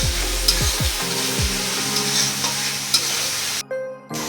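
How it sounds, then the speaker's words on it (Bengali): Vegetables frying in a pan for fried rice, a steady close sizzle with spatula knocks and scrapes, then a sudden hiss near the end, with no voices. "বাইরে ফ্রাইড রাইসের জন্য সবজি ভাজা হচ্ছে"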